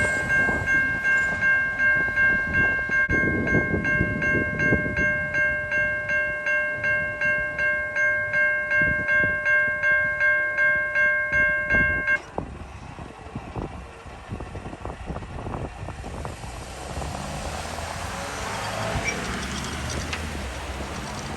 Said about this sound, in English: that was an awesome grain train